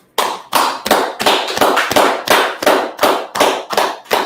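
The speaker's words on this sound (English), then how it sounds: "Let's clap that up, man." A small group of people clap at a live history class, a loud, close burst of rhythmic hand claps at a steady, even pace.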